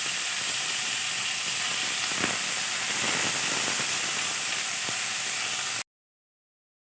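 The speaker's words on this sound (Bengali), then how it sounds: "এই যে লাউটা আমি দিয়ে দিচ্ছি। লাউটাকে ভালোভাবে কষিয়ে নেব হলুদ দিয়ে।" Bottle gourd sizzling with turmeric in a hot pan, a steady loud hiss filling the whole stretch with faint crackles and scraping, then cutting off abruptly near the end.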